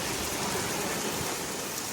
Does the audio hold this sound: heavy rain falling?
yes